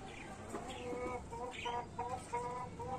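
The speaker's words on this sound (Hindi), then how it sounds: "एक मुर्गी अंदर है बाहर आ रही है" Desi Aseel chickens cluck close by in a series of quiet, short, repeated calls in a loose rhythm over a soft background.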